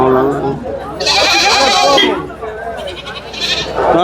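Sheep ram bleating at the Ranipet goat market, several loud nearby bleats in bursts with pauses between them, mixed with people talking over the busy livestock market.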